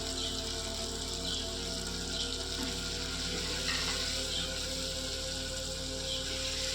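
Coriander and cumin powder sizzle in a hot pan with a steady, even crackling hiss that runs unbroken throughout, fairly quiet and close, with no voices.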